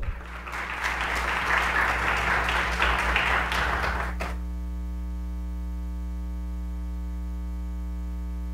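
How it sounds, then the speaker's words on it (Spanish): An audience at a Universidad Latina de Costa Rica event on health management and human rights applauds loudly for about four seconds, then the clapping cuts off, leaving only a steady electrical hum. "Le damos un fuerte aplauso"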